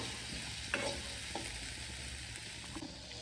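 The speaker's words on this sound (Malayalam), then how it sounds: "സവോള സ്വല്പം വഴറ്റിയെടുക്കാം." Sliced onion sautéing in a pan for a dry fish kozhuva dish, a soft continuous sizzle with a few light stirring scrapes close by.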